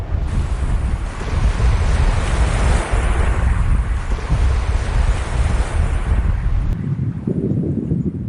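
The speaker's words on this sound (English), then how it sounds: "The sea's still got a bit of kick in it." Waves crash and roll in at a point break on a rough sea, a loud, continuous roar of surf with heavy wind buffeting the microphone, the rumble briefly dropping near the end.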